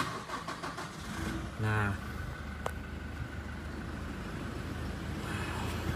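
A 2018 Toyota Innova Venturer with the 2.4 engine and automatic gearbox cranks briefly, catches and settles into a steady idle, close by, while someone speaks at the start.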